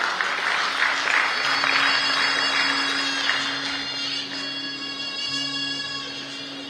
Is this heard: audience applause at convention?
yes